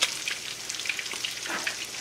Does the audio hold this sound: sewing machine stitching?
no